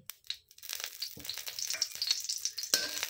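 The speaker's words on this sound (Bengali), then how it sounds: "পাটিসাপটার জন্য কড়াইতে সাদা তেল দিয়ে দিয়েছি" White oil crackles and sizzles in a hot wok, with uneven bursts of frying noise that swell and fade over a few seconds, close by and moderately loud, with no voices.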